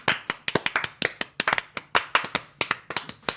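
One person claps fast and unevenly in a frenzied burst, sharp close slaps in an irregular stream over a few seconds, with no talk.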